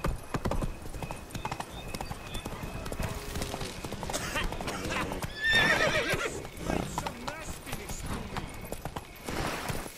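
Roach the horse gallops in The Witcher 3, rapid rhythmic hoofbeats with a whinny and neighing partway through, accompanied by scattered voice sounds.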